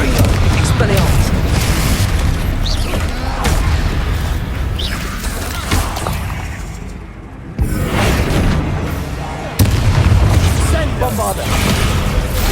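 Spell explosions from Confringo and Bombarda go off during a Hogwarts Legacy battle, dense booms and bursts piling up over game music and action noise, with voices talking throughout.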